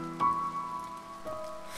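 Steady rain falls in the video game To the Moon, a soft continuous patter with a faint musical tone running underneath.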